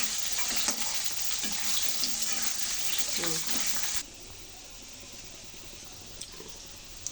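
Potato and taro pieces fry in oil with a bright, steady sizzle and occasional stirring clatter close by, which stops abruptly partway through and leaves only a quiet room hum.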